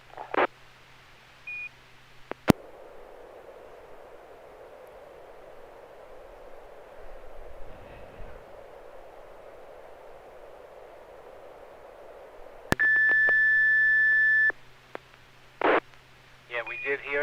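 A steady test tone sent over an amateur radio SSTV net, a long unbroken whistle near the end of a stretch of hissing radio static, with brief beeps and chirps around it.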